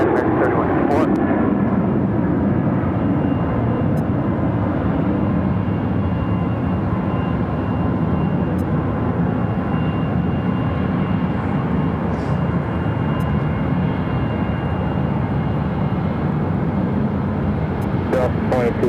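An airliner at Phoenix airport powers up on runway 7 left, a loud continuous jet roar that holds steady throughout, with no speech.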